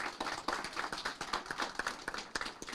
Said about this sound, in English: Can we give RUHS one more big round of applause?